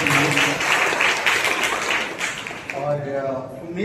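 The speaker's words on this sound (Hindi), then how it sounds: "सभी का स्वागत है, जोरदार ताली बजाइए" A congregation at a Sunday church service in a hall applauds, a thick, loud patter of many hands that thins out toward the end while a voice talks over it.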